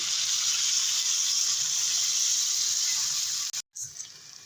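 Water pours in a steady, bright gush into a pan of broccoli and bean vegetable curry, then cuts off abruptly near the end with a brief splash.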